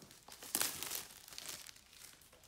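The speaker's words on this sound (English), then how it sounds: "We've got the clear plastic wrapping." Clear plastic wrapping on a Sudio Regent wireless headphone box crinkles close up, with a louder burst of crackling early on, then fainter intermittent rustling and crunching as it is handled.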